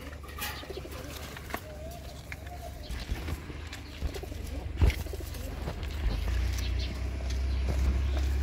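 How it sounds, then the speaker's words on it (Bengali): A pair of Lakkha pigeons coos softly at a farm, low murmuring calls under steady background hum, with a faint bird chirp and a brief knock midway. "একজোড়া লক্ষা কবুতর, খুব কোয়ালিটিফুল লক্ষা"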